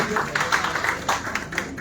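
An audience at a Hindustani-language poetry recognition event claps to welcome a poet, a short burst of brisk, fairly close applause with individual claps audible.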